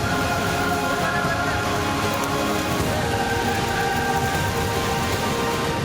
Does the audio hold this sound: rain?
yes